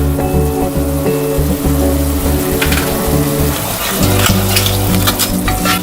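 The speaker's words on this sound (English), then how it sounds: "We're going to let this fry until it's nice and golden." Rice seasoned with paprika, salt and nutmeg fries in a pot with a steady, loud sizzle throughout, broken by occasional stirring scrapes and clinks near the end.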